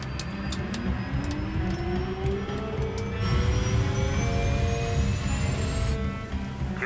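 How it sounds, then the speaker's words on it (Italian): Jet engines of a hijacked airliner spooling up on the ground at Marseille, a steady roar with rising whine tones, with regular ticking clicks through the first half. "Vediamo che in questo momento l'aereo ha acceso i motori."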